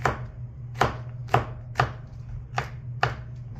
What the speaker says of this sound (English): Next, mince the garlic. Basically just gonna